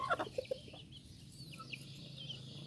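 Chickens cluck and chirp softly nearby, a few short calls at the start followed by scattered quieter clucks over low background noise.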